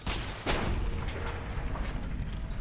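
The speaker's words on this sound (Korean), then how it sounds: "이 녀석 빤치 한 번에 애들를 날려버릴 수 있던 거야?" Veronica's punches knock enemies away in Fallout: New Vegas, two heavy booming thumps close together, the second landing about half a second after the first over a dense rumbling game background.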